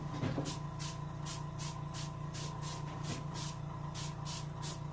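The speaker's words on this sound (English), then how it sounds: "You may want to concentrate your spray" Short bursts of aerosol paint spray hiss in a quick, regular rhythm over a steady low hum, close and fairly loud, while painting a chum salmon taxidermy mount.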